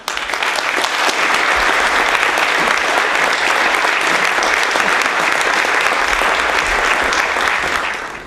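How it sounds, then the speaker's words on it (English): A live music-show audience bursts into loud, sustained applause that fills the room evenly for several seconds before it fades at the end. "let's give a big round of applause for these ladies"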